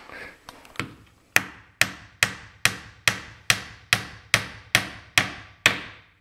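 A dozen sharp hammer blows strike in a steady rhythm, each ringing out and decaying before the next, close and loud, after a few lighter taps.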